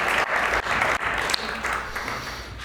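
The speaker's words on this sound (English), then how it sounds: "Can we have a round of applause on that one?" An audience at a community playback theater event breaks into a round of applause, a full, dense burst of clapping that gradually thins toward the end.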